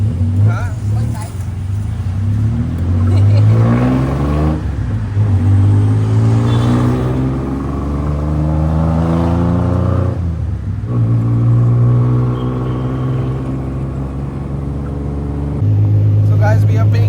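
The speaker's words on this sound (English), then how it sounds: "We got the tuk-tuk guys. You can hear that." A tuk-tuk's small engine revs in a busy Bangkok street, a steady close rumble that rises and falls in pitch with each throttle blip, carrying under nearby voices throughout.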